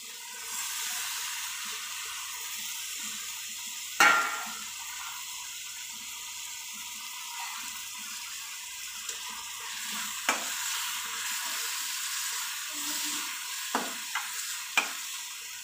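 Chicken chukka curry cooking in a pan, a soft continuous sizzle with occasional sharp spoon taps and scrapes as it is stirred, fairly quiet and steady for the whole stretch.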